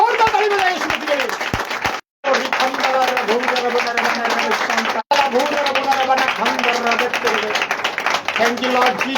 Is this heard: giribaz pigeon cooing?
no